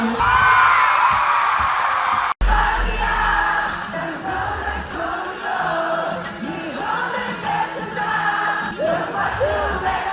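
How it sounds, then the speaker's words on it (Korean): A French concert crowd at a charity show sings along in Korean to a song, a loud, dense mass of voices with cheers and whoops over the music, sustained throughout and close-sounding. "프랑스 관중들이 한국어 가사를 그대로 따라 부르는 역대창을 선보인 것입니다"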